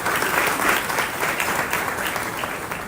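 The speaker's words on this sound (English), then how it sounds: "Please give a round of applause for us and the entire program." An audience at the opening ceremony of a leadership training program in Accra in 2024 gives sustained, loud applause, with many hands clapping together at close range for the whole stretch.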